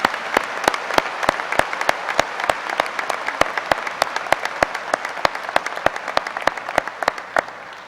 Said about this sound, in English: a round of applause to say thank you and to show appreciation for their talents